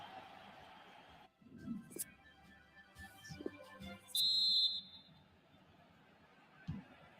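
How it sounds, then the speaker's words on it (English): Referee's whistle in FIFA 19 blowing for half-time, one sharp steady blast of about half a second cutting above faint stadium crowd noise, with a few softer knocks around it. "there goes the whistle for half"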